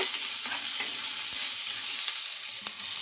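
Two chopped tomatoes fry in a little oil with a steady, loud sizzle and a hissing wash throughout, broken by a few soft stirring scrapes; no one talks.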